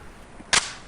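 A single sharp gunshot crack from an M16 rifle rings out during a weapons drill in the video game Police Quest: SWAT, with a brief fading tail over faint background hiss.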